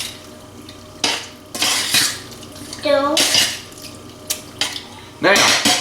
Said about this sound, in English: And we're going to give it a good stir around.